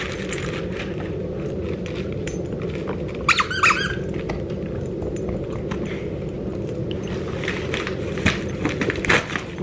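A squeaky duck dog toy for Great Danes gives a quick run of rubbery squeaks, with a few more later, over constant rustling noise from packaging being handled.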